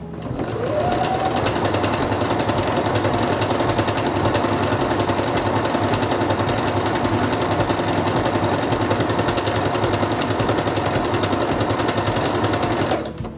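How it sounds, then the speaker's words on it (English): A Singer Quantum Stylist 9960 sewing machine stitches fabric in a steady, loud mechanical whir with rapid needle rhythm, running alone without talk until it stops at the end. "Put your fabric under the presser foot, lower it, and begin sewing."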